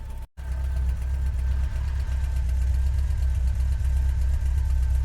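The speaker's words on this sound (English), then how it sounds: "I'm in second gear, flat on the floor at 25 miles an hour to get up this hill" Volkswagen Vanagon engine straining flat-out in second gear up a steep hill on the James Dalton Highway in Alaskan cold, a loud, steady droning hum with constant low rumble after a brief dropout.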